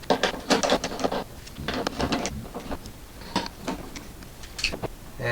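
Three T20 Torx screws being removed from the headlight ballast of a Mercedes ML W164: clustered close ticks and scratchy clicks of the driver turning in bursts, with quieter pauses between, no speech.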